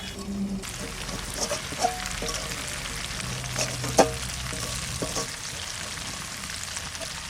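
Butter simmering down into homemade ghee in a pan, a continuous close sizzle and bubbling with occasional stirring scrapes and clinks, no talking.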